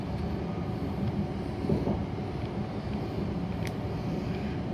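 Interior of a TfL Rail train heading toward Liverpool Street and Tottenham Hale, a steady loud rumbling roar of wheels and motors with faint squeaks and rattles throughout.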